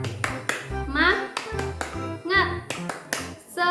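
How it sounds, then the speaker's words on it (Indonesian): A primary school class does a rhythmic encouragement clapping chant, with sharp patterned claps alternating with children's voices calling out together, close and lively. "ayo kita melakukan tepuk semangat."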